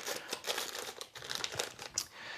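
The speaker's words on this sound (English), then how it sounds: "so I just put it in a plastic bag" Plastic crinkles and rustles in irregular bursts, close and fairly quiet, as the bag is handled.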